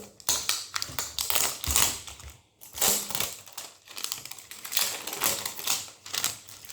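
Plastic packaging around a Goan bebinca sweet being torn and opened, a close run of dense crinkling and crackling bursts with brief pauses, continuous and fairly loud, no voices.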